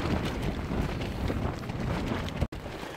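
Strong gusting wind at about 50 mph roars outside a North Face Westwind tent pitched in the Mourne Mountains, a loud, steady blustery rush buffeting the microphone with a brief dropout near the end.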